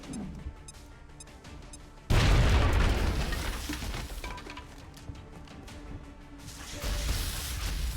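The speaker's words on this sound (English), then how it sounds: "Throwing grenade." A grenade detonates in the XCOM Long War video game, a sudden loud explosive boom with a crashing burst that decays over several seconds before a second swell of rumbling debris.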